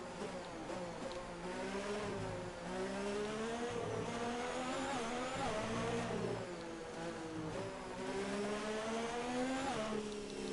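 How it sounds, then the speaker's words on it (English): A Formula 1 race car engine in the F1 2019 video game at the Mexican Grand Prix, a high, buzzing whine that rises and falls continuously through gear changes, loud and alone. "Car sounds so weird with that,"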